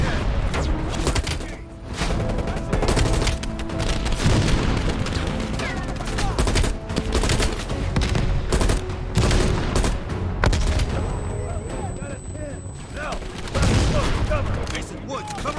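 Anti-aircraft guns pound away in dense, continuous bursts in a Call of Duty Black Ops Cold War battle, loud and close, with booms and scattered gunfire, while voices shout over the barrage.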